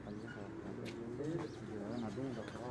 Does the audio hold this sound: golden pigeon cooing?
yes